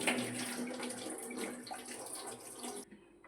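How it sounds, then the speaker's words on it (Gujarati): Water pours and splashes steadily from a container of washed rice as it is drained, then stops abruptly, leaving quiet. "આ રીતે પાણી બહાર કાઢી લેવાનું"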